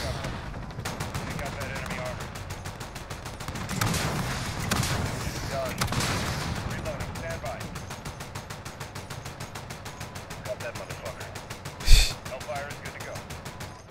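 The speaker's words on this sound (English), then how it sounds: "Fire chain gun." Rapid, dense automatic cannon fire from a helicopter chain gun in the Call of Duty Modern Warfare (2019) campaign, a continuous rattling barrage with heavier blasts around the middle and a sharp explosion near the end, alongside game effects.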